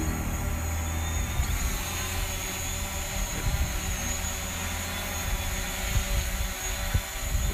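A DJI Mavic drone flies in toward a landing pad with a steady whirring rotor drone and a thin high whine, holding an even level throughout with no talking.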